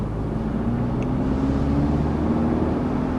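A 2024 Mercedes CLE 300 Cabriolet drives in sport mode, giving a loud, steady engine and road hum with a low, even tone throughout and no speech.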